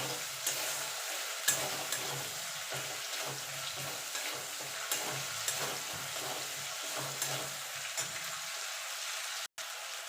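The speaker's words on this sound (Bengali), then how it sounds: "দেখুন বন্ধুরা, কাঁচা লঙ্কা আর আদাটা একটুখানি নাড়াচাড়া করে নেব।" Green chillies and ginger stir-fried in a pan, with a steady close sizzle broken by repeated scraping stir strokes for about ten seconds, no voices.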